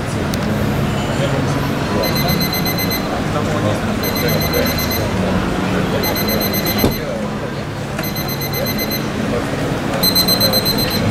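A repeating electronic wake-up alarm beeps in bursts every couple of seconds inside a 2019 Mercedes Marco Polo camper van, over a steady background rumble, fairly loud and close.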